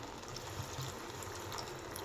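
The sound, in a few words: water being poured into curry pot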